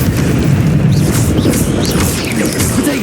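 An Incendio fire spell blast in the Hogwarts Legacy video game: a loud, sustained rumbling boom that fills the whole moment, with crackling bursts on top.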